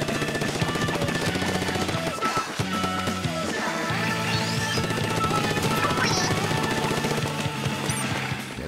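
A Heavy Splatling gun in Splatoon fires in long rapid bursts, a dense, loud mechanical rattle mixed with game music and effects that carries on almost continuously throughout.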